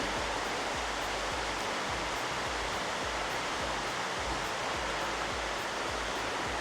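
Water pours down a waterfall beside a river at a resort, a steady, loud rushing roar that fills the whole stretch without pause or voices.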